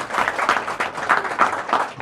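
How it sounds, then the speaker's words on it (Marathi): An audience at a lecture breaks into steady applause, a dense, even patter of many hands clapping that carries on throughout without pause. "टाळ्या जास्त वाजल्या म्हणजे मन मोठं आहे"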